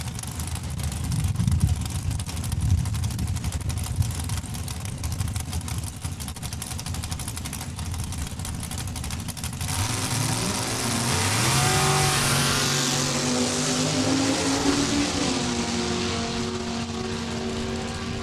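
Drag racing engines roar loudly and continuously, a 4-cylinder Bantam altered and a dragster launching down the strip at Saskatchewan International Raceway, the sound shifting midway into a rising, revving engine tone as a car accelerates away.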